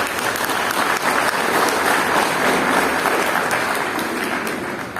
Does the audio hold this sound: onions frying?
no